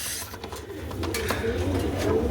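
Pigeons for sale at a market coo steadily and close by, in soft overlapping calls with a busy background murmur.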